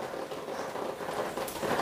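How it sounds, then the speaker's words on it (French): Steady rain falls outside a house, a continuous soft hiss with scattered patters on surfaces, heard from indoors with no speech. "Vous entendez ce petit bruit de pluie que j'ai à la maison?"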